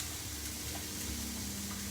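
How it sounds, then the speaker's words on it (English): Mushrooms fry in a hot pan, giving a steady, dense sizzling hiss that stays close and even across the short stretch, with no talking. "So now I'm going to throw into there our mushrooms, because we just want the mushrooms to cook down a little bit."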